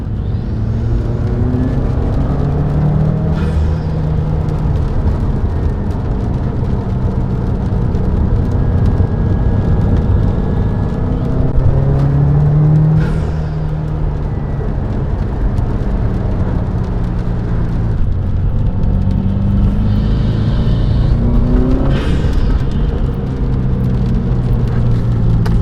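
A 2018 Subaru WRX fitted with a Nameless Performance blow-off valve and GrimmSpeed turbo inlet makes a third gear pull from 3,000 RPM. The engine roars loud and steady, with its pitch climbing through several sweeps and no talking.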